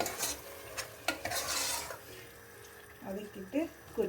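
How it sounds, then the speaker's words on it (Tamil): Chicken is stirred in a hot pan with coconut oil, a soft sizzle with scraping utensil strokes, and a voice speaking near the end. "தேங்காய் எண்ணெயில் மெல்ட் ஆகிற மாதிரி 2 மினிட்ஸ் நல்லா வதக்கிட்டு"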